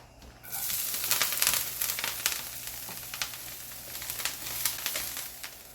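Brussels sprouts hit a smoking hot oiled pan with a sudden burst of loud frying sizzle, then crackle and spit steadily, with small pops and stirring scrapes close by.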